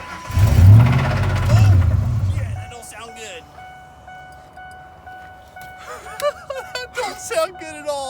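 A Triton V10 engine in a Ford F-150 that was run low on oil turns over and revs in loud, rough bursts up close, then dies away. Voices and other noises follow the engine sound.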